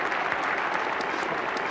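A Test match cricket crowd applauds Gary Sobers as he reaches a hundred, steady dense clapping from a large crowd that holds even throughout.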